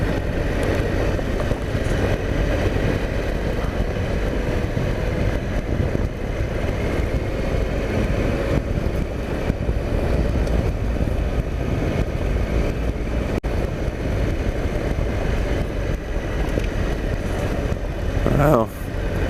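A Triumph Explorer XCa motorcycle riding along farm tracks, a continuous engine drone mixed with heavy wind buffeting on the microphone, steady and close throughout.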